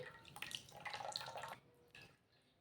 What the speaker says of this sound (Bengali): এখানে ছানাটা ঢেলে নিয়েছি। এখানে জল ঝরিতে দিয়ে দেবো 15 মিনিট